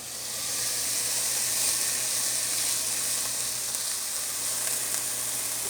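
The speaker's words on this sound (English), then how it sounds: "While the meat is draining, I'm going to cook onions." Onions frying in a pan give a steady, close hissing sizzle that rises at the start and holds evenly throughout, with no voices.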